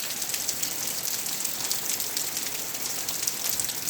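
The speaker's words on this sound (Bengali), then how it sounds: "আমি এখন দেখেন আমি বৃষ্টিতে কেমনে ভিজি" Steady rain pours onto garden plants, a bright close hiss of drops striking leaves that holds at an even level throughout, with no voices.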